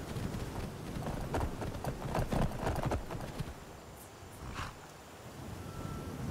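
Rhythmic clip-clop of horse hooves at a trot in the video game Skyrim, loud and near, fading into quieter ambience with a faint distant call.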